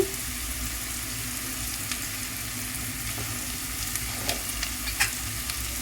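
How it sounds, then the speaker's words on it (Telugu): Chopped onions fry in a pan for a home-style chicken curry, giving a steady close sizzle with occasional scraping stir sounds and light clicks throughout. "చూడండి, ఆనియన్స్ వేగుతూ ఉన్నాయి కదా."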